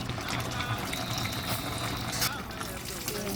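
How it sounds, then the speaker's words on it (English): Water streams steadily into a cooking pot of sun-dried tilapia, a continuous close pour lasting a few seconds. "I think I'll add a little bit of water."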